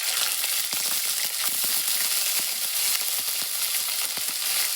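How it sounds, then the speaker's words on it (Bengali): Ginger paste hits hot oil in a frying pan for a bottle gourd and pea dal dish, giving a steady, close sizzle dotted with sharp crackles and pops throughout. "এইবার দিয়ে দেবো আদা বাটা"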